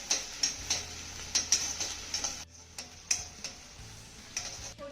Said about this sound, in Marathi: अर्धा मिनिट ही फोडणी आपल्याला चांगली परतून घ्यायची आहे